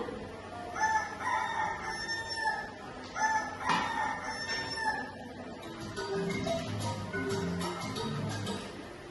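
A rooster crows twice in quick succession, loud and close, followed by lower clucking and farmyard murmur toward the end.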